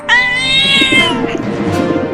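A cat lets out a loud, drawn-out meow close by, rising then trailing off into a lower wavering cry.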